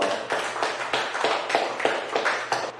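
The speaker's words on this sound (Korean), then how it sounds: "우리 하나님께 영광의 박수 올려드립니다" A church congregation claps together in a steady rhythmic beat, roughly two claps per second, moderately loud and close, with a low sustained hum underneath and no talking.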